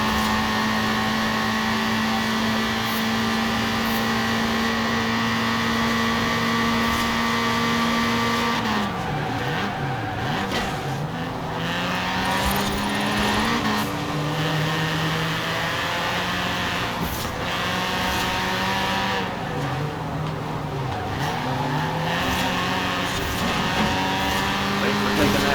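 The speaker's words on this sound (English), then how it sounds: "That's a full throttle turn right there." A race car holds full throttle through a turn in Forza Horizon 4 on a touge mountain road, its engine droning steadily with pitch dips and rises, while people talk over it.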